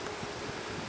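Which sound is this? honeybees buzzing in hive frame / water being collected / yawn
honeybees buzzing in hive frame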